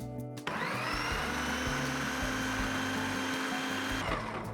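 A blender blitzing a vanilla cheesecake mixture, starting abruptly with a loud steady whirring motor that runs for about four seconds, its pitch wavering slightly as the blades chop, then cutting off.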